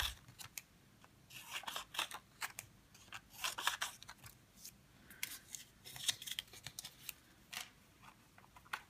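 Scissors snip paper along a dotted line, a quiet, close series of quick crisp cuts and rustles in irregular bursts.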